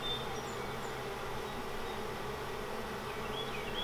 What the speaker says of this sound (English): full of life, with 6-7 frames of bees